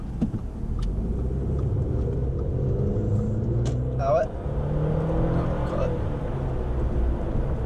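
An Audi A4 B8 accelerates with a steady, loud low engine rumble throughout, heard from close by with a brief change in tone partway through.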